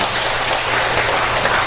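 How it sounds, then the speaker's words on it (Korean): A church congregation claps during a Sunday morning service, a continuous, even wash of applause from many hands throughout. "박수 한번 칠까요?"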